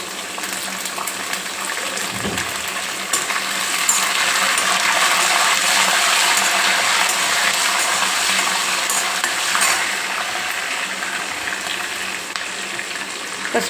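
Green chilies and curry leaves sizzle in hot oil while tempering for tamarind pulihora, a steady, close, bright hiss that swells louder midway, with no talking.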